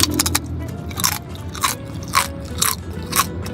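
Loud, close crunching bites into crispy Balinese roast suckling pig skin, several sharp crackling bites spaced about half a second apart, with no talking.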